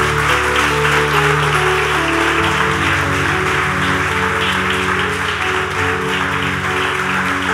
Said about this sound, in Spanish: Alguien debería darle un fuerte aplauso al Señor